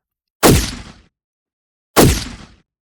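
Two identical blasts of a gunshot morphed with an electrical sound effect, loud and close, each with a sharp attack and a short buzzy decay, separated by silence.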